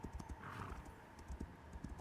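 Hooves clip-clop in a quick uneven rhythm with a brief whinny from a horse in an MMO video game, faint and thin.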